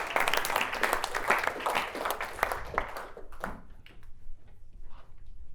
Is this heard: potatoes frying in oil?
no